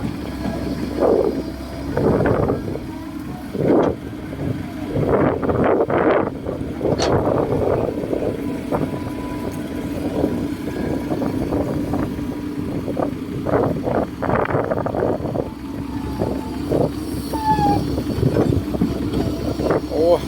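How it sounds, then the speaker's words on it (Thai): Strong wind buffets the microphone at an excavation site where a Komatsu PC130-8 excavator and a dump truck are dredging an old pond, rising in loud rumbling gusts throughout, with someone talking over it now and then. "ลมเอ้ยลม"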